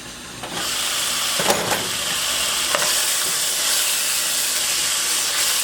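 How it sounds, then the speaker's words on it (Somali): Pasta sizzles loudly and steadily in a hot pan, a dense continuous hiss with a few soft stirring scrapes near the start. "si fiican u shiilmayso maasha allah."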